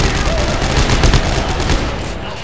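Loud, dense automatic gunfire in Dead Space 3 co-op on PC, a continuous rattling volley of shots lasting a couple of seconds before trailing off, with no talking.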